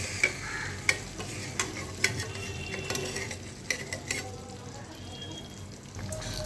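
A spoon stirs a Bengali doi pabda fish curry with spices and hot water in a pan, giving scattered scraping clicks over a soft, continuous simmering sizzle.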